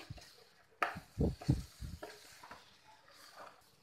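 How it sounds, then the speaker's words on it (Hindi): Spoon stirring coconut powder into a thick, darkened mango mixture in a pan, giving a few scraping, squelching strokes in quick succession, then fainter scrapes trailing off. "अब मैं इसमें अपना नारियल का पाउडर डालूंगी इसे इसमें अच्छे से मिक्स करेंगे"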